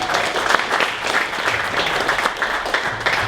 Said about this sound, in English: So big round of applause for the DEC.